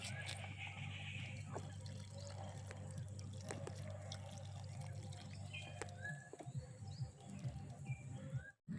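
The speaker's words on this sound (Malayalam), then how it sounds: "വെള്ളം കൂടി ഒഴിച്ചു കൊടുക്കാം" Water poured onto a ridge gourd seedling growing in a grow bag trickles and splashes faintly and continuously, with a low background hum and a few small drips near the end.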